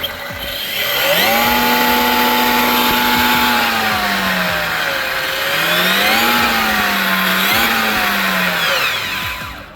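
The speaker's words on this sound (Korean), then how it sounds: "자, 공회전 한번 해볼게요." A new RC car's small engine whines steadily near, then its pitch dips and climbs in two swells as it revs up and down from idle, loud and alone without talk.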